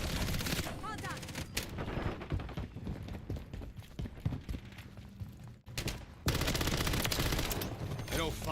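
Rapid bursts of gunfire from an XDefiant multiplayer match, dense and loud almost throughout, with a brief drop to near silence partway before the shooting resumes at full intensity.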